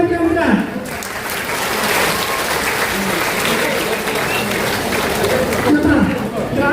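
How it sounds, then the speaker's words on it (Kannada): Loud, sustained applause from an audience at a school program in a theatre hall, steady dense clapping lasting several seconds with crowd murmur mixed in. "ಜೋರಾದ ಚಪ್ಪಾಳೆ"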